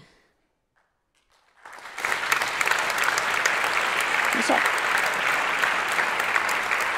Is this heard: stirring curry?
no